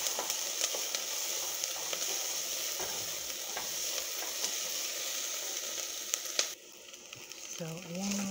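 Onions sautéing in a pan on a stovetop, a steady, moderately loud hiss of frying with faint stirring scrapes, cutting off abruptly near the end.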